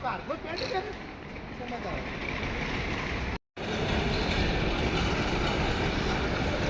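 A Rajdhani Express train rumbles past close by with steady rattling and roaring noise, broken by a momentary cut midway.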